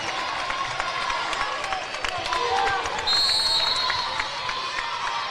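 Friends and family crowd at an Ohio high school basketball regional semifinal at the Cintas Center, cheering and shouting in a busy gym with squeaks and thuds on the court, under a commentator's voice.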